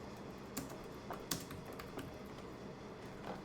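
Typing on a computer keyboard, quiet scattered key clicks with a few sharper taps, close and alone against a soft background hiss.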